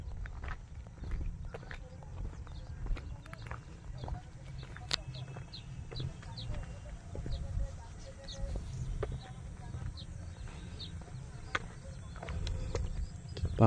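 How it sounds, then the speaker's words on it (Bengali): Birds call outdoors in Baruipur with scattered short, faint chirps heard at a distance over a steady low rumble and occasional footstep-like thuds. "পাখির সব ডাক শুনতে পাচ্ছি,"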